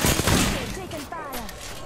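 Rapid gunfire in Apex Legends rattling in bursts, dense and loud at first, then continuing under a player talking.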